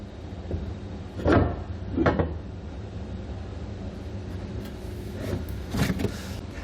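A Curt custom fifth wheel front rail is set down and slid onto its base in the bed of a 2020 Chevrolet Silverado, giving a few separate metallic clunks and scrapes against a steady low hum.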